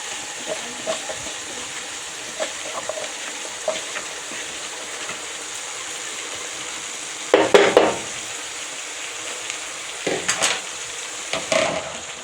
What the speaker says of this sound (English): Mix. Mix it well.